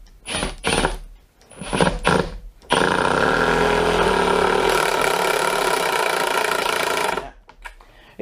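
A DeWalt DT7513T bit drives a 6x50 screw, giving a few short whirring bursts followed by a long, steady, loud buzzing run of about four seconds before it stops abruptly.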